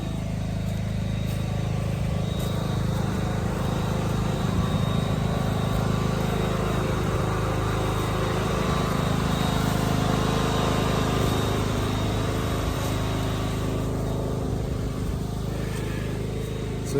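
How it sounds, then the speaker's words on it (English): A generator runs steadily close by, powering an electric Kinetic log splitter, giving a continuous loud engine drone with a low hum throughout and no talk over it. "The generator is noisy like generators are."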